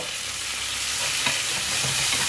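Peppers and garlic sizzle loudly in a pan with vinegar added, a dense steady frying hiss with occasional stirring scrapes, no voices.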